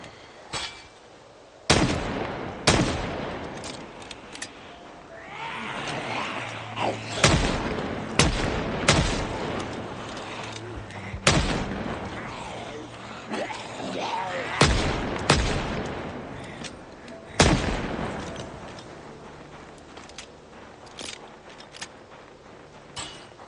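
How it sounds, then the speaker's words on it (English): Gunshots in Project Zomboid ring out as sharp, loud single reports spaced irregularly, about a dozen cracks with short echoing tails over a quiet background. "Let's just shoot them."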